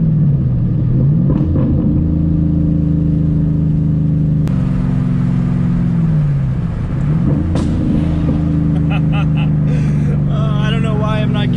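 A Shelby GT500 V8 holds a loud, steady, rumbling drone that swells and eases. It ends in rapid stuttering pulses as the engine bounces off its rev limiter.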